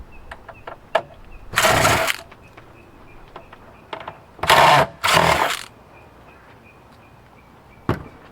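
A power screwdriver whirs in short bursts while backing out motherboard screws from an Intel Express 510T Ethernet switch, three close buzzing runs separated by small clicks and taps from handling the metal chassis.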